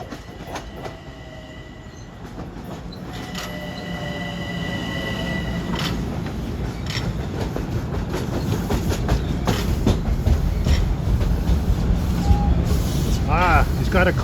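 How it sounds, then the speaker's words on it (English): Commuter train pulling in on track 3 at a station: a steady rumble that builds gradually, with wheel clatter and high squealing tones from the rails. "here comes 6266 in from Grand Central. He'll be arriving on track 3."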